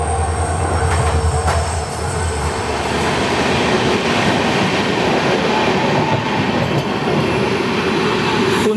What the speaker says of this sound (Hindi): यहाँ पे डेक्कन एक्सप्रेस डिपार्ट कर रही है